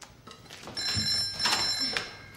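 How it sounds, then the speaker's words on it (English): Telephone ringing indoors at home, a bright electronic trill repeating in short bursts, moderately loud, with household clatter underneath. "Is that the phone?"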